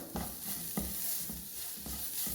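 Grated carrots and sugar being stirred and fried in ghee in a pan, a steady sizzle with a spoon scraping at regular intervals, close and alone.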